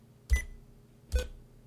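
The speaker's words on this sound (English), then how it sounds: "Is there any benefit to the beep?" Two short electronic beeps from Windows Sticky Keys after the Alt key is pressed, evenly spaced about a second apart, moderately loud from a computer speaker over a faint hum.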